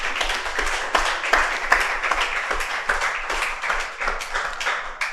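A seated crowd at a French-speaking gathering bursts into sustained applause, many hands clapping in a lively, uneven patter at close range, with no speech over it.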